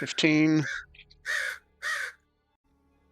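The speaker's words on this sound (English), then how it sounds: "That's the crows are outside my window harassing my cat." Crows caw outside a window, two loud harsh calls in succession following a brief burst of talk, then quiet.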